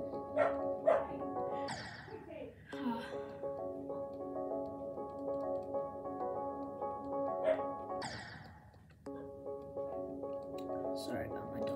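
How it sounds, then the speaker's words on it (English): A pet dog barks and yips in short bursts close by indoors while a person talks over game music during a Geometry Dash session. "Sorry about my dog, guys."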